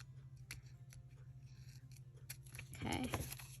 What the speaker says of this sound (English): It's easier to cut from the other side.